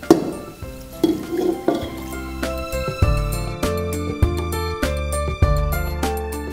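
Grated carrot stirred with half a litre of milk in a metal pan for carrot halwa gives repeated close metallic clinks and scrapes of a spoon against the pan in an uneven rhythm.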